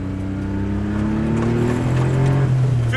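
A Daihatsu Kancil Mira kei car accelerates hard, its small engine droning loudly with rising pitch as it climbs through the revs, heard from inside the cabin.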